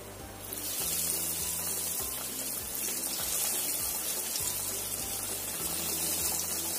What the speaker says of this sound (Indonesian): kita goreng yang selanjutnya ya